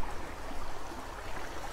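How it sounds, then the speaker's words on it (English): A backyard water feature where a waterfall spills into a stream running across the rear yard of a Reno house, heard as a steady, moderately close wash of flowing water with no talk. "This has a spectacular water feature that starts off with a waterfall that falls into a stream that traverses the rear yard."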